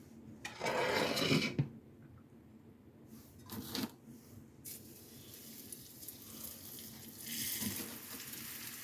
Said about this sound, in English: all we're going to do is brown these on both sides